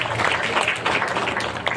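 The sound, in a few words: applause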